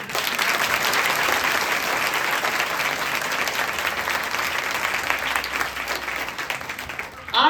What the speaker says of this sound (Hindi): इतनी कम तालियां इतने सुंदर ड्रामे के लिए बड़ी नाइंसाफी है ये तो।